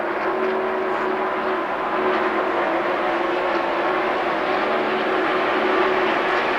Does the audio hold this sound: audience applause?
no